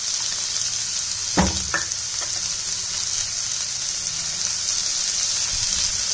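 Onions frying in a pan for restaurant-style palak paneer, a constant close sizzle with a couple of brief clinks of a spoon near the start, no talking.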